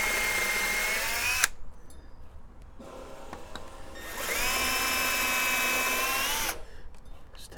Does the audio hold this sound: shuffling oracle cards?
no